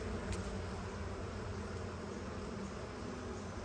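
Honey bees buzz steadily around an opened beehive that appears to have swarmed, a continuous dense drone at moderate level with no talking.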